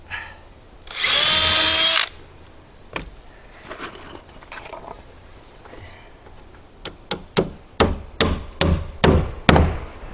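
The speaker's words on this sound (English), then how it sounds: "And I pre-drill." A power drill pre-drills a wood batten for a board-and-batten exterior wall in one short, loud one-second burst, followed by scattered knocks and then a quick run of sharp taps.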